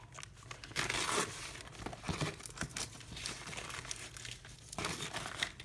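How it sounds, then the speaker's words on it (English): Embroidery stabilizer being torn away from a freshly stitched coaster, a close, continuous crinkling and ripping with louder bursts of tearing and no talking. "So what we're going to do now is just tear this out. Tear away, we're going to tear it out."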